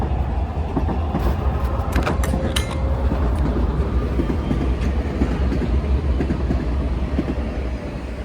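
A train passes nearby, a steady loud rumble with rattling wagons and faint clickety-clack persisting throughout at an even level.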